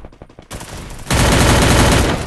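Close, loud gunfire from an AN-94 rifle in the Free Fire battle game starts with a few quick separated shots. It then swells into a continuous heavy roar of automatic fire that lasts to the end.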